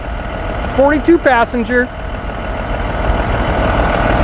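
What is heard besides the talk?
idling 6.7 Cummins engine of 2009 Blue Bird All American bus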